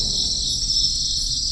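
Cartoon sound effect of crickets chirping on a still, dark night: a steady, shrill high-pitched trill that holds evenly throughout, with a faint low rumble underneath and no voices.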